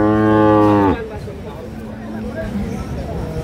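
A dairy cow at the Ambari cattle market in Dinajpur lets out one loud, drawn-out moo close by. The crowd's murmur and market bustle carry on after it.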